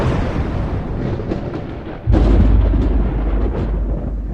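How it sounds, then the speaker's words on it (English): Rolling thunder in an animated Christmas story: a deep continuous rumble that swells abruptly halfway through and stays loud and heavy to the end. "It sounded like rolling thunder."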